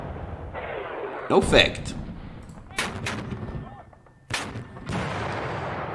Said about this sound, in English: We got hit by artillery.